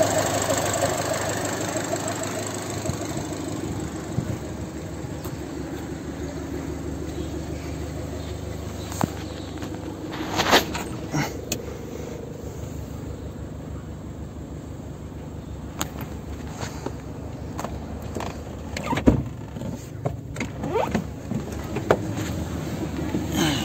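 An Alfa Romeo MiTo fitted with a water-methanol injection kit runs on a test drive, its engine a steady mid-pitched drone with occasional sharper knocks and clicks and no voices.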